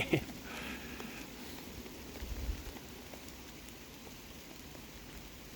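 Steady rain patters down on a surface, a soft continuous hiss with scattered drops, no voices, faint and even throughout.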